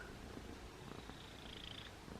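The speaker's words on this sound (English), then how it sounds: "Having a black cat makes me feel like a witch." A black cat purrs close by, a soft steady rumbling purr with a gentle rhythmic flutter running through the short clip, alone without any talk.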